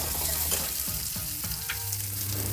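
Cumin, dried gooseberry and ginger roast in a pan with steady, close sizzling and a few soft stirring scrapes, heard alone throughout.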